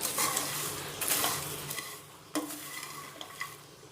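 Fasting chivda is stirred and tossed in a pan, giving soft, dry rustling scrapes with a few light clinks of a spoon against metal, close and quiet, with no one talking.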